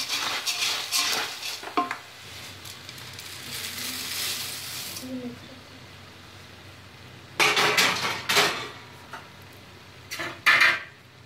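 Puffed rice for chivda being stirred in a pan, giving bursts of dry rattling scrapes and clinks of a spoon against metal, separated by quieter stretches with a faint low hum.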